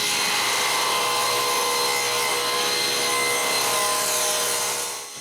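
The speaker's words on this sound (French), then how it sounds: "Elle commence par mettre un côté droit avec le scie circulaire." A circular saw whines steadily as it cuts through wood, a loud, continuous buzzing cut that tapers off at the end.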